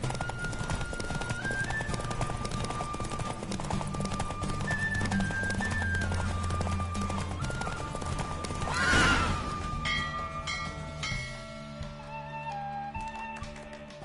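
Horse galloping in a race in the video game The Witcher 3, a steady drumming of hooves under a sustained musical score, with a whoosh-like swell midway before the hoofbeats fade under the music.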